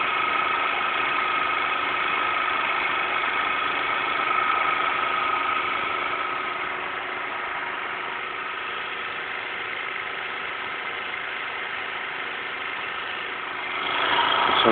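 Newman motor replica running with a steady mid-pitched electric hum and whine that eases slightly, then swells louder near the end as it speeds up; no voices.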